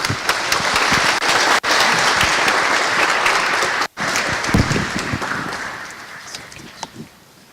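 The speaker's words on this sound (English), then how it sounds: "All right, I think we can do better with our hands. Another round of applause." A large audience at the opening ceremony of an environmental emergencies forum in Nairobi bursts into loud, full applause, holding strong before tapering off near the end.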